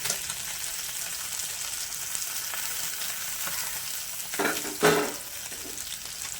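Parshe fish frying in oil in a kadai: a steady, close sizzle throughout, with a couple of louder clattering stirs near the end.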